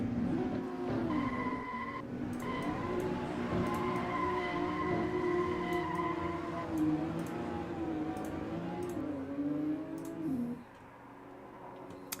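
Race car in a racing video game doing burnouts, a sustained loud engine drone with squealing tires that rises and falls in pitch before cutting off near the end, with faint ticking clicks over it.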